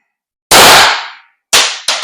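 An airsoft gun on HPA with its stock barrel fires one loud close sharp crack, then two more quick shots follow about a second later.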